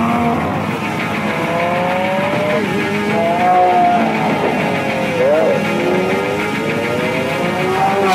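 A Lamborghini Aventador driving, its engine note rising and falling in sweeping tones with some tire noise, loud and continuous throughout.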